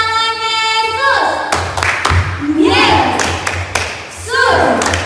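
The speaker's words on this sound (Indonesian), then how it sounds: "Tepuk tangan Yesus." Children clapping hands along to a song during an online Sunday school service for a church in Pekanbaru, heard as a few sharp, rhythmic clap bursts mixed with singing voices and a teacher talking, close and fairly loud.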